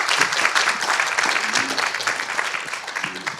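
An audience at a Korean research-institute talk concert claps in sustained, dense applause, loud and continuous for several seconds, with faint voices underneath.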